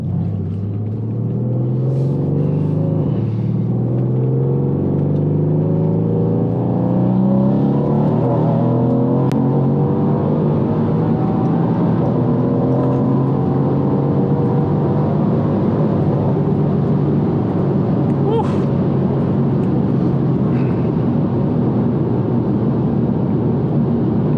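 A 604bhp Mercedes C63S AMG in Sport Plus mode accelerates along an open road, its engine a loud, steady rumble with rising tones as it pulls through the gears, and no talking.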